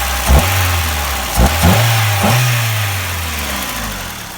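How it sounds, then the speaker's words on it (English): A 1989 Acura Integra engine, a Honda four-cylinder, blipped up in a few short revs and then settling back to a smooth, steady idle; close and loud, no talking. "Revs up, goes right back to idle, which is fairly rare for most every Honda I've had."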